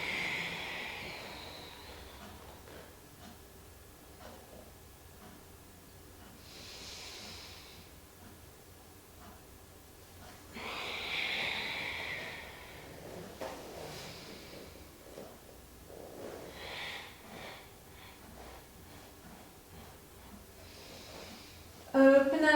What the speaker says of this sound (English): and exhale.